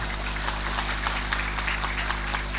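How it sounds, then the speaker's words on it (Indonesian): An audience at a religious gathering claps for Banser, a dense, steady round of applause under a constant low hum, with no talk over it. "Tepuk tangan untuk Banser."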